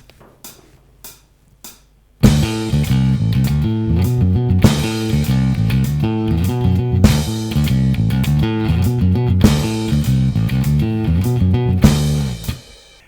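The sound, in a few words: bass riff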